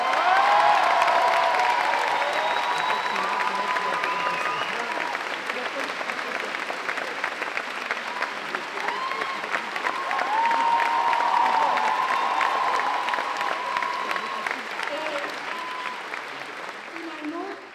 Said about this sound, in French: merci à vous, le public, pour votre confiance et vos applaudissements ce soir.